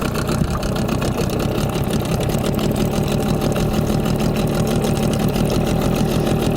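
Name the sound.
two-stroke motor idling at trolling speed, Lux Super oil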